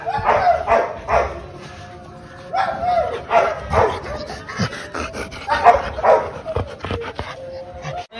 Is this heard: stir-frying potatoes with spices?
no